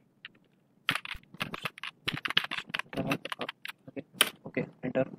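Typing on a computer keyboard at a PC, a quick irregular run of close, crisp key clicks and taps, loud and alone, with no talk over them.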